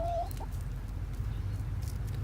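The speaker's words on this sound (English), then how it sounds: "Chickens look good. Chickens are fat." A chicken gives a short cluck early on at a farm in the small Oregon towns of Gates and Mill City, faint over a constant low rumble and soft background patter.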